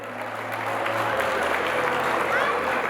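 Steady, dense applause from a crowd of guests honoring grandparents at an Armenian engagement party, a continuous wash of clapping that stays loud throughout with faint voices underneath.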